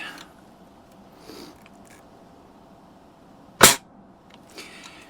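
A single sharp crack from a Daisy 120 pellet rifle firing at Halloween targets, close and loud, with a faint metallic clink afterwards amid quiet surroundings.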